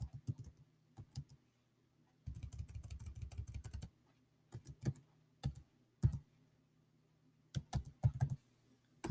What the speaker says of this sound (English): That's typing in the password